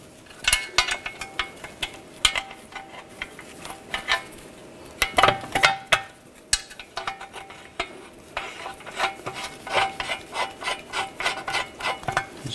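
Metal tools click and scrape steadily as a nut is run onto the bolt of a new rear lower control arm on a 2009-2017 Volkswagen Tiguan. Close, irregular ticking and rattling continues throughout, with no voices.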